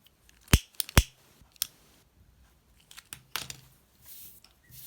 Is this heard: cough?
no